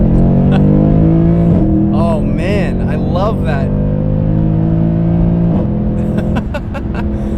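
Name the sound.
Mercedes C63 AMG Black Series accelerating with upshift pops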